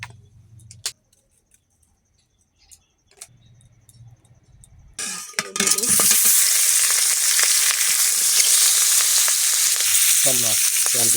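Oil in a wok (kadai) bursts into a loud, continuous sizzle after several seconds of near silence broken by small clicks, then keeps hissing steadily, with a brief voice at the end.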